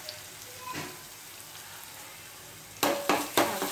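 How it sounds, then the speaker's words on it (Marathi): Ground masala paste fries in oil with a quiet, continuous sizzle, then three louder bursts of spluttering stirs near the end; close by, with no talking. "तेल सुटेपर्यंत वाटण जे आहे ते छान फ्राय करायचं."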